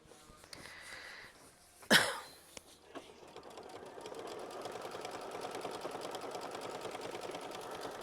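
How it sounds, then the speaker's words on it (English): Close by, an embroidery sewing machine starts sewing out a stitch step after a sharp clunk, settling into a steady rapid rhythmic whir that continues to the end. "go ahead and sew out machine stitch step 9"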